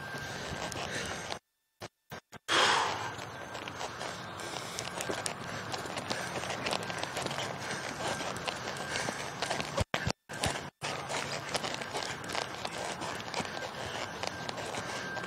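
Steady hoof beats of a horse moving at a walk in a horsemanship clinic, continuous and fairly close, with a few brief dropouts and no talking.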